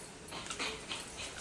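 A dog whimpers and whines softly in a home kitchen, a few short plaintive cries with faint panting, fairly close but quiet.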